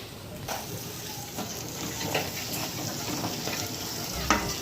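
Masala sautéing in a pan for paneer tomato curry, with a continuous close sizzle and scattered scraping stirs, and a sharper clatter near the end.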